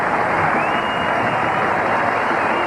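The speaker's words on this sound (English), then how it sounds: "Now let's hear the crowd cheer." A stadium crowd at a 1985 NFL football game, Philadelphia Eagles at Minnesota Vikings, cheers in a steady, dense, continuous roar with no breaks.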